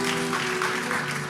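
A church congregation applauds during a sermon in a short, dense burst of clapping that fills the space evenly. A faint steady tone hums underneath.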